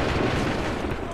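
Gunfire in Assassin's Creed 3 after an order to open fire, heard as a steady, dense roar of musket volleys with booming low rumble throughout the short burst.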